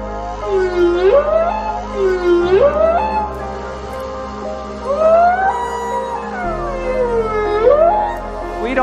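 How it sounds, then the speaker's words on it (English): Recorded whale song plays alone: long, rising and falling tonal moans and swooping cries over a steady low drone, with several call phrases in sequence. "The whale songs could sound like this right here."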